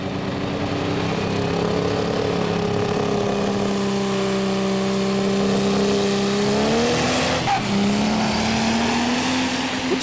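A Fendt Pro Stock pulling tractor on a pull at a Eurocup tractor pulling event, its diesel engine roaring loud and sustained at high revs, pitch climbing and shifting as it strains down the track.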